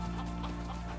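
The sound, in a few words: chicken clucking in video game Icarus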